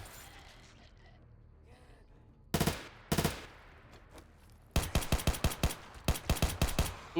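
Gunfire in a night raid in modded 7 Days To Die with an Escape From Tarkov overhaul: after a quiet stretch come two short bursts, then a longer run of rapid, sharp shots.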